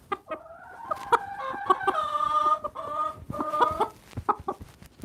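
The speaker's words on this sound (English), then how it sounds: "Listen how she clucks" A hen clucks close by in quick bursts while being held, breaking into a longer, strained squawk midway before returning to short, choppy clucks.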